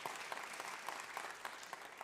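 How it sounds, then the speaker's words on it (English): Applause from a live audience at a WoodSongs folk music broadcast, a dense steady clapping heard faintly and at a distance, with no voices over it. "if anything deserves applause, I think that does"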